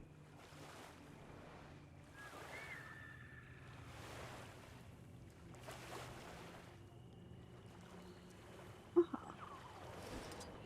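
Soft water sloshing and lapping forms a calm, steady ambience in the Guild Wars 2 game world, with gentle rhythmic swells and a faint low hum, plus one brief sharp knock near the end.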